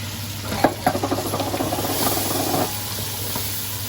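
Tinned tomatoes hiss into a hot pan with onion and garlic, sizzling loudly as a spoon scrapes and stirs in quick strokes for a couple of seconds before the sizzle eases to a quieter steady hiss.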